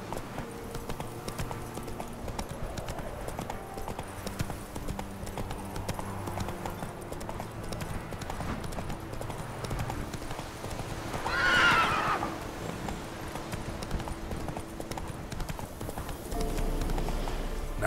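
Roach, a horse, galloping with a steady rapid clip-clop of hooves throughout, breaking into one loud neigh partway through.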